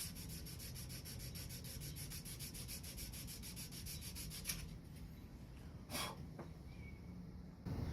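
Someone hand sands the sides of a forged bottle opener's handle to take out belt grinder marks, with a faint, quick back-and-forth rubbing. It runs steadily, then pauses and leaves a few light scrapes, quiet and close.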